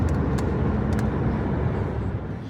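Steady road traffic on the highway from Munich to Salzburg heard from inside a moving car, a constant low rumble of tyres and engines with a few brief higher clicks.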